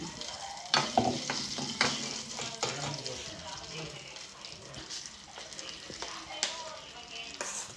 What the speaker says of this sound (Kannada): ಸೊ ಇದು ಒಗ್ಗರಣೆಗೆ ಚಟ್ನಿ ಹಾಕೋದು